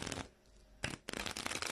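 A deck of playing cards is shuffled by hand, with a burst of riffling, a brief pause, then quick flicking and a second rapid run of card snaps, close and crisp.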